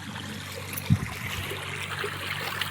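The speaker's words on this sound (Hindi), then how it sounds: "ये देखो पानी चलत है" Water flowing steadily along an irrigation channel in a farm field, a soft continuous trickle and gurgle with one brief low splash near the start, fairly close and alone without talk.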